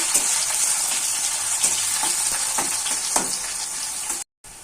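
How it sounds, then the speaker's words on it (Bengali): Chopped onion fries lightly in oil for an egg curry, giving a continuous close sizzle broken by a few soft stirring scrapes, then a brief moment of silence near the end; nobody speaks. "যে পেঁয়াজটা আমি কুচিয়ে রেখেছিলাম সেটা দিয়ে দিচ্ছি। পেঁয়াজটা একটু হালকা করে ভেজে নেব।"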